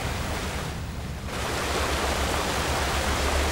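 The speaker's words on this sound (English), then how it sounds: "I really like the sound of the waterfall" Waterfall ambience in the StarCraft II game map plays as a steady, full roar of rushing water, constant and fairly loud throughout with no voices over it.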